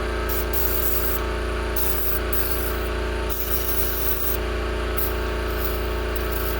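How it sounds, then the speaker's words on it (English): PB penetrating spray hisses steadily onto rusty LBZ torsion bars in a continuous close-up spray, with a few brief pauses between bursts. "Now I'm gonna spray some PB in there."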